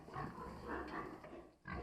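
Piglets on a farm, loud close grunting and squealing in quick overlapping bursts, with a short pause before a final grunt.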